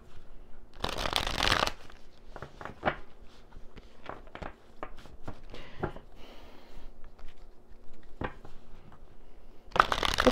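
A deck of tarot cards is shuffled close up, with brisk riffling bursts at the start and end and scattered soft card taps and slides between them.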